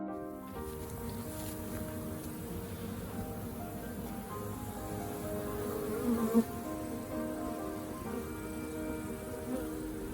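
A dense, steady buzz of many bees clustered in a hive up in the peak of a roof recess continues throughout, close and unbroken.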